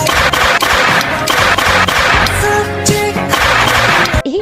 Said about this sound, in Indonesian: mainan tembak-tembakan